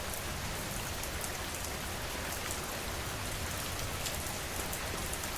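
Gentle rain falls steadily and evenly, a soft continuous patter on surfaces with no thunder, holding at the same level throughout with no voices.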